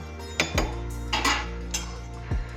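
A metal spoon stirs chicken biryani in a pressure cooker after salt is added, giving about five sharp clinks and scrapes against the pot at an uneven pace, close and clear.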